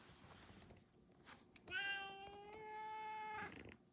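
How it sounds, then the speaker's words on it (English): A pet cat meows at close range, one long drawn-out, strongly tonal meow that wavers midway, heard alone in a quiet room after a brief soft noise. "Why are you meowing at me?"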